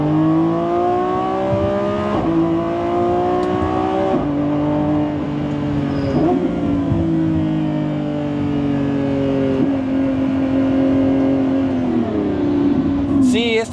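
A 2025 Lamborghini Revuelto accelerates hard in Sport mode, its engine note climbing loudly and dropping at each of several quick gear changes, then rising again.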